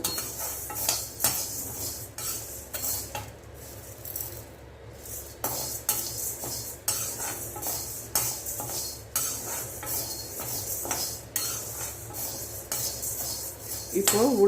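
Urad dal dry-roasting in a pan while being stirred, giving a steady run of scraping and clinking from the spoon against the metal with a few louder knocks and a soft dry rustle underneath, heard close and with no voices.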